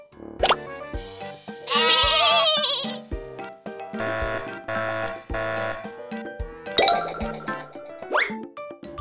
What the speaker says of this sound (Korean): 복실복실 털이 있는 양의 울음소리였어.